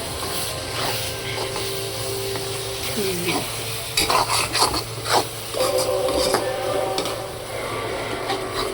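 Pasta and eggs being stirred and sautéed in a pan, with a steady frying sizzle under repeated scraping strokes of a utensil, a few louder clattering bursts midway.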